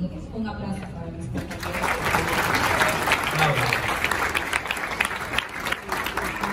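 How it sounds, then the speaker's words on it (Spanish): Guests at a charity gala break into applause for colleagues, the clapping swelling after a moment into a dense, sustained wash with crowd murmur and voices underneath. "Un aplauso para mis"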